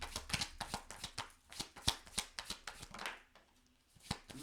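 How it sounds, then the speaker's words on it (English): Rapid, crisp slaps of tarot cards being shuffled and dropped onto a table, a quick irregular series of close, sharp taps with a brief pause near the end. "It's lovely to see a card as I shuffle it and falling on the table"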